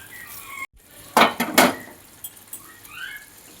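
Metal spoon scraping and clinking in a pan of cooked potol (pointed gourd) after sugar is added, a few short scrapes close by with quiet gaps, no talk.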